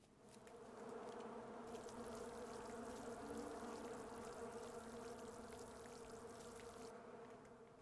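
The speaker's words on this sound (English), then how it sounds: "The bees are very loud." A steady, droning buzz of bees in the video game Island Beekeeper hums continuously at low volume, swelling in and holding evenly, with a faint watery trickle beneath.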